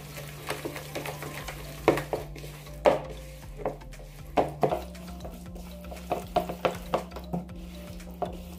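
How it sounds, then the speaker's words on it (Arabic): Oil being stirred into marinade ingredients for chicken wings in a bowl, a steady run of close, clinking and scraping stirring strokes with a low background hum. "غادي ندير الزيت، غادي نخلط هاد المكونات كاملة اللي عندي"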